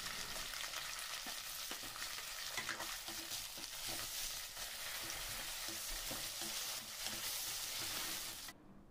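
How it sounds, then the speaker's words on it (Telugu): Chopped onions fry in a pan for a capsicum masala curry, giving a steady, close sizzle with light scraping stirs throughout and no talk; the sound drops away abruptly near the end. "ఇప్పుడు మనం తరిగి పెట్టుకున్న ఆనియన్స్ తీసుకొని వేయించుకుందాము."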